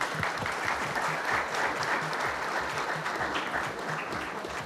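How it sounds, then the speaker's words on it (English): A room full of guests at a badminton inauguration event claps steadily, dense sustained applause at moderate loudness that holds throughout with only faint background voices. "keep the claps going."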